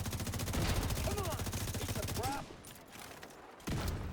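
Enemy grenadiers in a video game let off rapid automatic gunfire: loud, dense bursts that run for about two seconds, then a short lull before the firing resumes.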